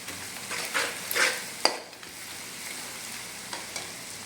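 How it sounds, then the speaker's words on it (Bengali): Pumpkin sautéing with fried fish heads in a pan produces a soft sizzle with a few sharp utensil scrapes and clinks early on, then quieter frying, close by without voices. "এরপরে এটাকে খুব ভালো করে কষায় নিতে হবে।"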